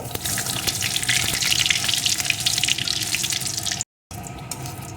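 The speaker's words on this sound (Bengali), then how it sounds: "এখন এই তেলেরই ভিতরে দিয়ে দেবো ফোড়নে দুটো শুকনো লঙ্কা একটু পাঁচ ফোড়ন ফোড়নটাকে সুন্দর করে প্রথমে ভেজে নেব" Dried red chillies and panch phoron frying in hot oil, a dense, crackly close sizzle with scattered pops that cuts out briefly and then resumes.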